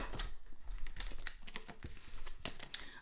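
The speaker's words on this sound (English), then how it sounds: "I'm going to just shuffle from the side because I don't know what's going on with these cards." A relatively new tarot deck that has not been used in a while is shuffled from the side, giving quick irregular papery riffles and soft card slaps, close and fairly faint.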